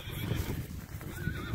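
A nine-year-old horse at a Kyrgyz horse sale whinnies loudly close by while its hooves clop on the ground, the neigh and the hoof steps running together over the short stretch without talk.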